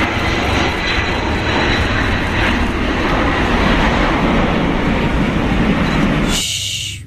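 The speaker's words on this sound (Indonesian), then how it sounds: "ini pesawat terbang penumpang punya luar negeri" A foreign passenger airplane roars loud and steady for several seconds, a broad continuous engine rumble that cuts off abruptly near the end, with no voices.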